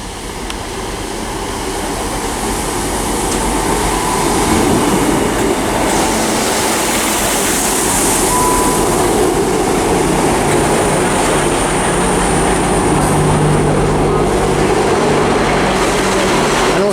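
A train rolls into Bristol Parkway station with a steady rumble that swells over the first few seconds, then holds loud and close with faint wheel squeals and clatter.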